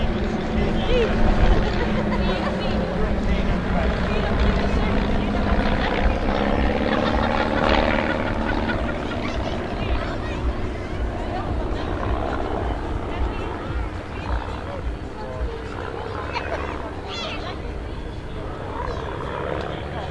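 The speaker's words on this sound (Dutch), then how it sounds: "er wordt een beetje ruimte gemaakt voor het vliegtuig wat er nu bij komt" Aircraft engines drone continuously as a formation flying team joins up at the Volkel airshow, a steady, moderately loud propeller hum heard from a distance, with a commentator talking over it throughout.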